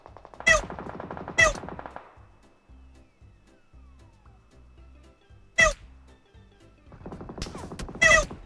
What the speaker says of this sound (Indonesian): Tadi kayak ada yang nembak gue guys, sumpah.